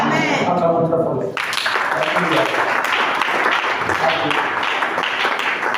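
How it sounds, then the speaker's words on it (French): A church congregation applauds loudly, a dense, sustained wash of clapping that starts abruptly after a voice and carries on, with voices mixed in. "Acclamons très fort."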